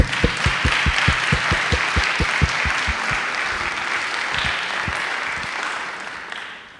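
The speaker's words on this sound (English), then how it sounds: "I'd just like to lead a round of applause for all of our presenters tonight." Audience applause for student presenters at a high school capstone project event, dense clapping from a crowd with a few close, sharp rhythmic claps standing out early, then fading away near the end.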